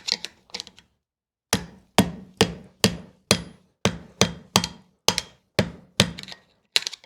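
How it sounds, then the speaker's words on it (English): A screwdriver taps a part holding bearings loose, making a steady series of about a dozen crisp, close knocks at a regular pace, after a few quicker light taps and a short pause. "We're just going to tap it loose with the screwdriver."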